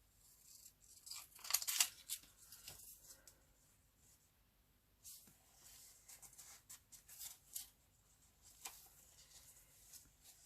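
Scissors snipping through paper while altering a book, a few quiet, close cuts with soft rustling and pauses between them.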